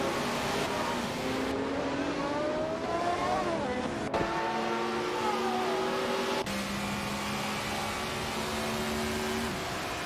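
A Porsche race car engine in a racing simulator game, a loud steady droning whine whose pitch climbs and then drops with gear changes, with several abrupt cuts, continuous throughout.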